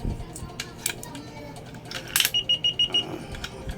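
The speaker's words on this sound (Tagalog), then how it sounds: "Ibig sabihin, single beep lang to kasi piso." A universal coin slot beeps as it registers coins in a short run of evenly spaced high electronic beeps, near and clear, with low background noise under it.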